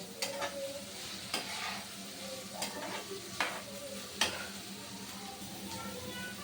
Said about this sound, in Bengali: এখন একটু ভালোভাবে নেড়ে চেড়ে দিব।